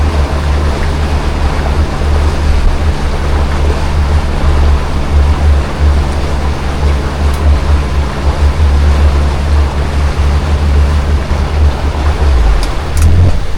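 A Sea Ray 270's single outboard engine runs in gear at a trailer ramp, a steady loud low rumble with churning water wash throughout, no speech.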